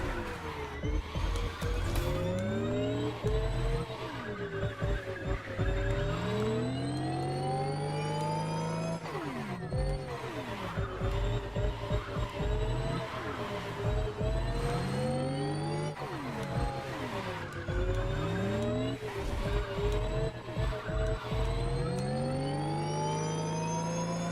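A racing car in The Crew Motorfest roars steadily up through its gears, the engine pitch climbing and dropping in repeated shift cycles, loud and continuous with no talking.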